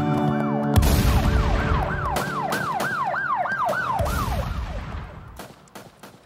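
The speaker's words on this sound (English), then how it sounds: "I just got really nervous when I heard the sirens." A wailing emergency siren rises and falls rapidly over traffic noise, loud and close at first, then fading away.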